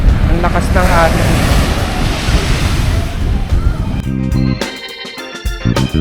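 Strong, rough ocean waves breaking on a beach near Manila, a loud, continuous surf roar mixed with heavy wind buffeting the microphone and surging wash near the end.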